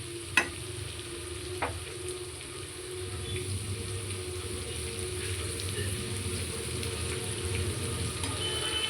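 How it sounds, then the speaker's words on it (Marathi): Onion fries in oil with asafoetida, a steady close sizzle that grows fuller partway through, with a couple of sharp utensil taps early on. "कांदा मी असं छान फ्राय करते आणि हे जे थोडं तेल आहे ना त्याच्यात थोडासा मी हिंग घालते"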